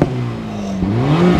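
A loud 2024 Acura Integra Type S engine revs up, drops briefly, then climbs again in a rising whine, with a rough, crackly exhaust edge and pops throughout.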